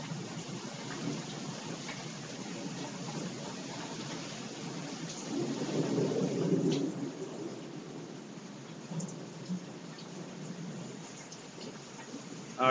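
Thunderstorm in Georgia with steady rain falling and a low rumble of thunder swelling midway before fading, the rain hiss continuing throughout.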